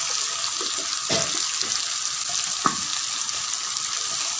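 Okra tossed into a pan with browned meat sizzles and crackles steadily up close, with a few scraping stirs and small knocks over the constant frying hiss.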